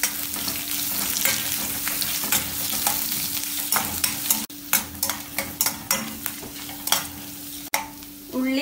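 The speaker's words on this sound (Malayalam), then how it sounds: "ഇതിന്റെ കൂടെ തന്നെ കുറച്ച് കറിവേപ്പിലയും കൂടെ ചേർത്ത് ഇളക്കി വഴറ്റാം" Sliced onion and curry leaves sizzle loudly in a hot pan while being stirred, a continuous close frying hiss broken by repeated scraping strokes of the spoon.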